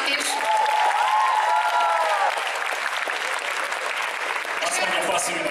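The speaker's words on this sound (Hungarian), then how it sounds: "Egy nagy tapsot Dudusnak is." A crowd at a cosplay convention gives steady, sustained applause that runs loud and continuous throughout, with a thin whistle or cheer rising briefly near the start.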